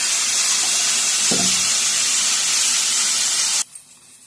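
Medium brinjal pieces frying in oil, a steady loud hiss and sizzle with a brief clatter partway through, cutting off abruptly near the end, with no talk.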